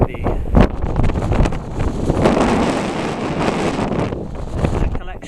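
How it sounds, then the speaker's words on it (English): Strong wind buffets the microphone on Route 66, a loud roaring rush with gusty surges and sharp thumps throughout. "Incredibly windy."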